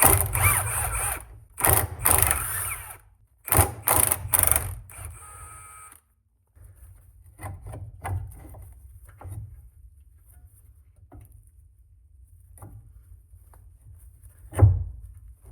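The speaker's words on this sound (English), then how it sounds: "disconnecting this lower ball joint is basically going to tell us whether it's the lower ball joint or the upper strut mount" Tools clank and thunk against a car's lower ball joint during suspension work, with a burst of rapid metallic rattling at the start, then scattered knocks and scrapes and one sharp hit near the end.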